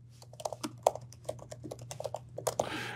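Fingers type on a computer keyboard in a quick, irregular run of close, crisp key clicks with short pauses, ending in a brief louder rustle, with no voices.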